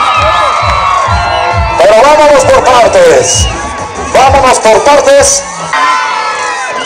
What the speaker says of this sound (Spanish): ¡Cómo grita la raza!